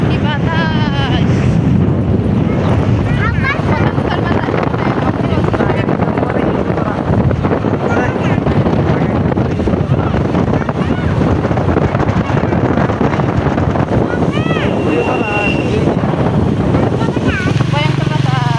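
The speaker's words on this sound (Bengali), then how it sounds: "কি বাতাস" Strong wind gusts across a flooded village area near Cox's Bazar, roaring and buffeting the microphone continuously and loudly. People talk under the constant rush.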